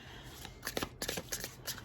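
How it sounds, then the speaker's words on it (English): Tarot cards are shuffled by hand during a reading, making a quick, close run of crisp riffling and slapping bursts at a fairly soft level, with no talking. "That's too many, so we will shuffle some more, please."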